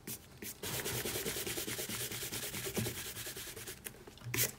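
An eraser rubs out pencil construction lines on paper while drawing a Freezer emoji, making a quick, dense run of soft scrubbing strokes for several seconds, close and fairly quiet, with no talking.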